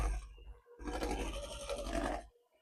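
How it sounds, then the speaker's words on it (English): Electric stand mixer whirring on a higher speed as it beats thick cake batter, a strained, buzzing motor drone with a brief cut near the start, then running steady and close before it drops away. "Mixer's struggling a little bit here, so we'll go ahead and turn that up a little."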